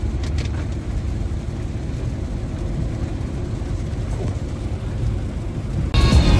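An all-wheel drive car being driven during Florida's rainy season, a steady low engine and road rumble heard from inside the cabin throughout, growing louder and brighter near the end as the car speeds up or splashes through water.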